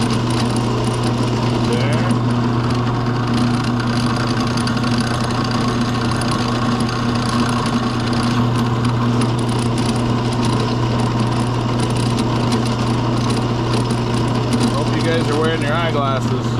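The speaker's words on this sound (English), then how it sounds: "You always want to have the eyeglasses on when you're drilling with the drill press." A drill press runs while drilling a row of holes for a wood stove rebuild, giving a steady, loud motor hum with a constant tonal drone throughout, close by.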